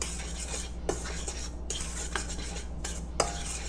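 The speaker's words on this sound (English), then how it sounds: "I'm just gonna give that a little swirl. That way everything's all mixed together." A sugar mixture being swirled and stirred in a bowl for vegan zebra cakes gives a continuous soft scraping and rustling, with a few faint clinks of a utensil against the bowl over a steady background hum.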